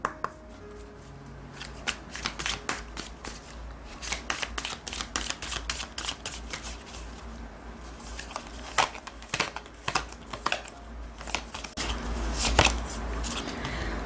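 Tarot cards shuffled and handled in a quiet room, a continuous run of rapid crisp riffling flicks and slaps over about fourteen seconds with a few sharper card snaps near the end.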